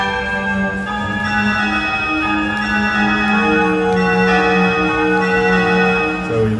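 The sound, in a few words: synthesizer bell sounds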